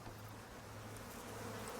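A steady, low insect buzz of bees droning continuously in the video game ICARUS, fairly quiet and unbroken throughout.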